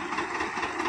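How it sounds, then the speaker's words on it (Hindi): An old tractor engine runs steadily at close range with a continuous, even rumble, carried to the fields during rice paddy transplanting in a village. "देखा यह ट्रैक्टर बहुत पुराना ट्रैक्टर है भैया।"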